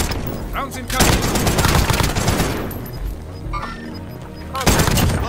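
Bursts of incoming automatic gunfire in a first-person shooter, loud and dense, with heavy rapid volleys at the start and again near the end and a busy battle din between them.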